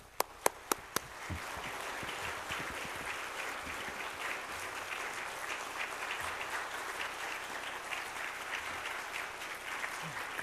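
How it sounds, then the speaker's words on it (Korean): Warm applause from a church congregation at a New Year blessing service fills the room, starting with a few separate claps, then swelling into steady, sustained clapping to welcome a preacher. "나오실 때 뜨거운 박수로 우리 환영하겠습니다"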